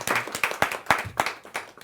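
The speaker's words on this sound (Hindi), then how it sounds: "जोरदार तालियों के साथ।" Audience at a Hindi poetry and humour gathering claps in separate, fairly loud handclaps, roughly three per second, close by with a little murmur beneath.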